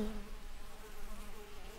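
Honeybees buzz steadily at the entrance of a hive undergoing a treatment, a continuous low drone heard close and fairly quiet, with no talk over it.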